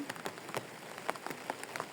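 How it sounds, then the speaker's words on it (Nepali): Rain falling heavily outdoors, a steady wash of drops with frequent crisp individual splats and taps on nearby surfaces, fairly close and without voices. "झन् बाक्लो पानी पर्न थाल्यो"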